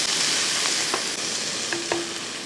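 Tomatoes for a taro curry sauté in a hot pan, giving a dense steady sizzle with light stirring and a couple of faint clinks, close, with no talking.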